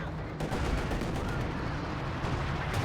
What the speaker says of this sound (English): Good shot from the Panther right through the frontal armor of the T-35 there with its high velocity gun.